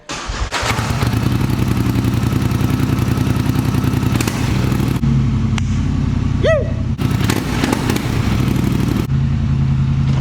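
A four-wheeler ATV fitted with new mud tires idles and revs with a steady, loud engine drone throughout, joined by a brief rising whine partway through.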